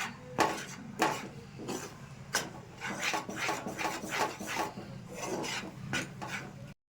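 A spoon scrapes and rubs around a bowl as gram flour (besan) is mixed for Dilkhush sweets, a steady run of close, gritty strokes with no talking.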